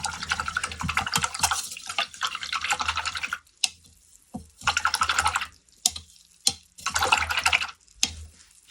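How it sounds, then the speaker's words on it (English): A mucky paintbrush swished and rinsed in a pot of water, giving bursts of wet sloshing and dripping with short quiet pauses between them, close and clear, with no talking. "Now it's time to wash our mucky brush in some water."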